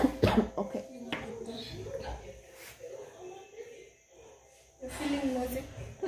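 Someone coughs a few times close by, with throat clearing and quiet talking between the coughs.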